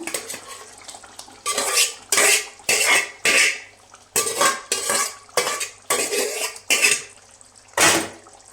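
A metal spoon scrapes and clanks in a pot of chicken curry as gongura leaves are stirred in, a steady run of about a dozen loud, rhythmic strokes with brief gaps.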